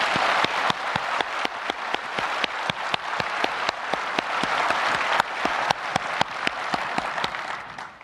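A conference keynote audience breaks into loud, sustained applause, a dense roar of many clapping hands with distinct individual claps standing out near the front, continuing without talk for about eight seconds.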